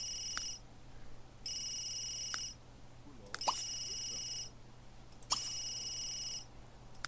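A telephone in The Sims 3 rings in repeated electronic trills, four bursts with short pauses between them, over a low steady hum and a few soft clicks.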